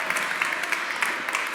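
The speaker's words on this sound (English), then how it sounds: "Ladies and gentlemen, a huge applause, Judit Polgar." Applause for chess grandmaster Judit Polgar at a creativity and innovation talks event, a moderate wash of clapping with scattered sharper claps, steady through the brief moment.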